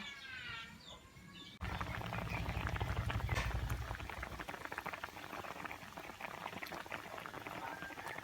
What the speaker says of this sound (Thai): เริ่มเดือดแล้วค่ะ